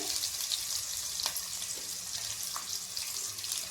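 Onions frying in hot oil with mustard seeds and cumin, a steady close hiss and sizzle with faint crackles and pops throughout, no voices.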